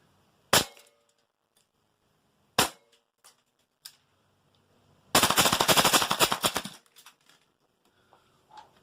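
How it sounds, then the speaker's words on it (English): An airsoft gun fitted with an Angry Gun SureFire RC2 tracer unit fires tracer BBs: two sharp single shots, a few faint clicks, then a loud rapid full-auto burst of about a second and a half, followed by quiet. "the first two BBs I've put in are tracers to make sure it's working, and then after that it should just be blank BBs."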